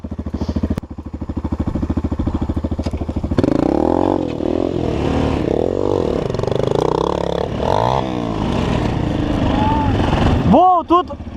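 A KOVI Advance 250 enduro motorcycle engine idles with a steady rapid putter, then revs up and down repeatedly in rising and falling sweeps while voices talk over it nearby.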